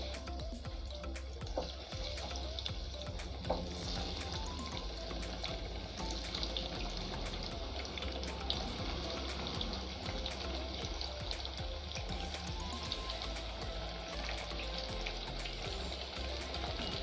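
Raw banana slices deep frying in hot oil for a Tamil vazhakkai varuval, giving a steady, dense bubbling sizzle that runs close and even throughout with no talk.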